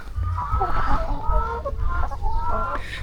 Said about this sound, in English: Imagine how hard it would be in life as a blind chicken.